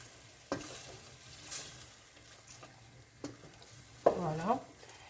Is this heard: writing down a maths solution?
no